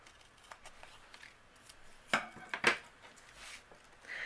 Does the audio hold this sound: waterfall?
no